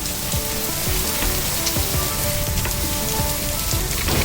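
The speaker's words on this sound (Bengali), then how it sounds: "বৃষ্টি বৃষ্টি বৃষ্টি স্টার্ট হয়ে গেছে" Rain begins on a rainy day, a steady hissing patter of drops hitting surfaces nearby, continuous and fairly loud with no voices.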